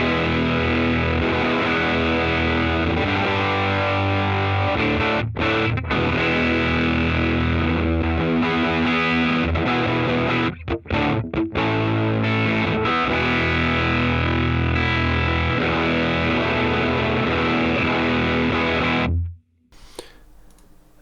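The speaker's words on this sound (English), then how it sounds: "if you drive the amp all the way up" Electric guitar through a vintage small amplifier driven all the way up chugs and sustains in thick, loud overdriven chords, dense and continuous for most of the clip before cutting off near the end.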